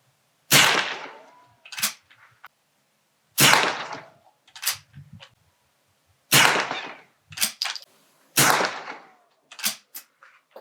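Rifle shots from a BSA Martini International Mark II at a shooting range: four sharp, loud cracks spaced a few seconds apart, each trailing into a short decay, with brief clicks and handling noises from the action in between.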